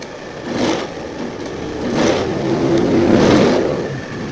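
A Honda Scoopy FI scooter with a fuel injector fault, engine blipped with the throttle and sputtering unevenly, rising in a few rough surges at close range with no talk.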